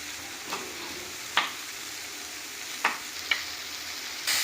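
Spice masala with chopped green chili sautés in a pan for a jackfruit curry, giving a low steady sizzle broken by a few sharp clinks and scrapes of a stirring spoon, with no voices.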